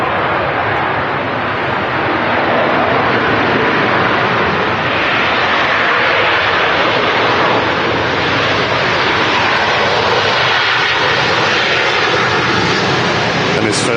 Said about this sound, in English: first arrival in today from Prague is a Ryanair 737-800. Touching down and kicking up lots of spray as it does so.